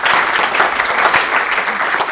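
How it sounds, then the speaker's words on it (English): An audience gives loud, sustained applause for a panel at a broadband strategy session, with dense, even clapping throughout and no speech over it. "Give this panel a round of applause."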